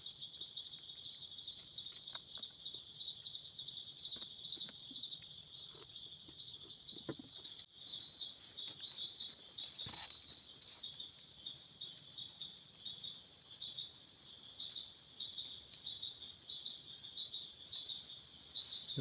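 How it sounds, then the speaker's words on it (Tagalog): Crickets chirp steadily at night on a quiet mountainside near a temporary booth shelter, a dense high-pitched trill that carries through the whole stretch with no talking. "Ating narinig sa gabi, kuliglig."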